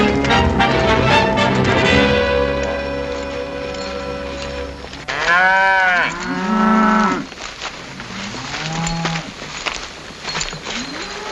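A cattle herd of steers out on the open range moos repeatedly, several long drawn-out bellows overlapping and rising over a background of orchestral music, some calls close and loud, others fainter.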